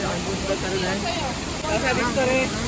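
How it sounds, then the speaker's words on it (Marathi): The constant roar of Mangeli waterfall, on the Goa–Maharashtra border during the monsoon, fills the background while a person talks over it nearby. "आणि असं वाहत आहे इकडचा धबधबा"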